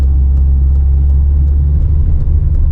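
A 1991 Ford Fiesta RS Turbo engine idles with a deep, steady rumble, close and fairly loud, without voices.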